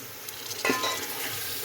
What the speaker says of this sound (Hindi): अब इसको अच्छे से भून लेंगे। इसमें चॉप किए हुए टमाटर ऐड कर देंगे।